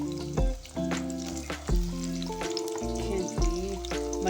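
Chopped onion, tomato, green chilli and coriander frying in a pan, a steady close sizzle broken by several clanking stirs against the pan, with no talking.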